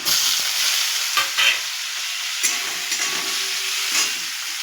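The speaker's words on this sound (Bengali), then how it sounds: "আলুটা ভাজা হয়ে যাওয়ার পর টমেটোটা দিয়ে দিয়েছি" Fried potatoes and chopped tomato hiss in a hot pan, a bright steady sizzle with a few spatula scrapes and knocks spaced a second or so apart, close and clear with no speech.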